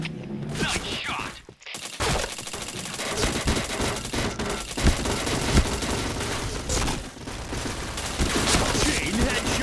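Dense, loud gunfire from the video game Point Blank: rapid automatic bursts and single shots crackle almost nonstop, with a brief gap early on and a voice talking over parts of the fight.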